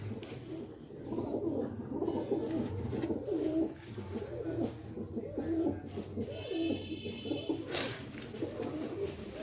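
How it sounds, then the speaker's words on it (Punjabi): Several pigeons kept for sale coo repeatedly nearby in soft, overlapping throaty bursts against light background noise, with a faint high chirp briefly audible. "ਇਹ ਕਬੂਤਰ ਆ ਬਈ"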